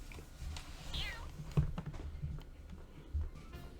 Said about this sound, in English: Well, you're a good kitty, aren't you?